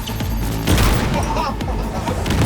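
Gunfire and a grenade blast in the video game Cyberpunk 2077: a loud, dense burst of rapid shots and booming impacts that runs without a break.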